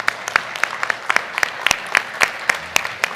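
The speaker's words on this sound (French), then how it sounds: "Vous pouvez encore les applaudir." Scattered clapping from a small group at a municipal council meeting, sharp individual claps at an uneven pace, fairly close and sustained for a few seconds.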